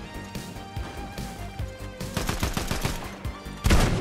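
Rapid gunfire bursts from the video game Fortnite, a dense run of sharp repeated shots of varying loudness, with a louder burst near the end and no talk over it.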